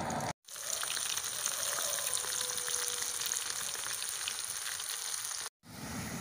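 Raw jackfruit chips deep frying in hot oil give a steady, dense sizzle that runs close and loud without a break, with brief silent gaps near the start and end.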